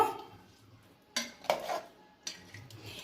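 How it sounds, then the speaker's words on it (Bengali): Utensil scraping and clinking against a pot while mutton curry (goat meat in a thin gravy) is stirred after sprinkling in garam masala; three or four distinct scrapes over quiet background, no talk. "এর মধ্যে এখন আমি গরম মশলার গুঁড়ো হালকা ছড়িয়ে দিচ্ছি, ভালো করে মিশিয়ে দেব।"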